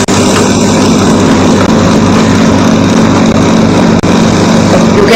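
A vacuum machine for sublimating wine glasses runs loud and close, a constant motorized drone with a faint regular pulse and two brief dips, and no one speaks.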